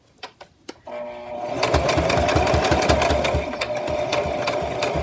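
A sewing machine stitches doll fabric, starting after a few soft clicks and then running in a loud, steady, rapid whirring chatter until the end.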